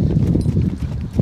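Hooves of a Suffolk Draft colt during a driving lesson, a steady, close clip-clop of walking steps with low rumbling underneath.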